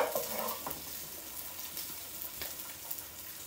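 Pancetta frying in a pan for pasta carbonara, a soft continuous sizzle with faint crackles and a few pan clinks, fairly quiet and with no one talking.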